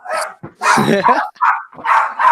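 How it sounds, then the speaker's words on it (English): Small 14-pound Jack Russell Chihuahua mix barking in four quick, loud bursts close by, with yips between them and no talking. "my dog, he is a 14-pound Jack Russell Chihuahua who thinks he's a pit bull"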